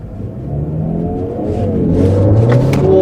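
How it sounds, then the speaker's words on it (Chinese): An MG7 car in super exhaust mode, with 405 Nm of torque and four exhaust outlets, revs up, its exhaust roar climbing steadily in pitch and loudness, close and unbroken. "按下去会进入超级排气模式。 尾排的声浪会有明显的加强"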